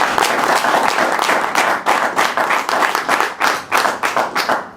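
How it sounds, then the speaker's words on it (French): A crowd at a political gathering breaks into loud, close applause, dense hand clapping that starts as a continuous wash and settles into a rhythmic, pulsing beat toward the end. "Vous avez raison d'applaudir"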